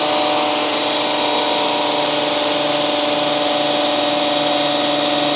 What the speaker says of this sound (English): You'll see as I'm running the drill, you can see how that's starting to fill up with oil.